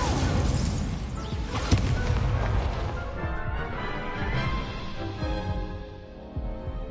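A fiery Incendio spell erupts in the Hogwarts Legacy video game, a loud burst with a sharp crack near the start, then a roaring, crackling blaze that slowly fades over several seconds.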